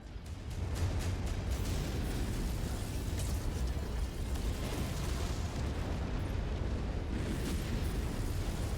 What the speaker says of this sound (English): My last kill's about to explode.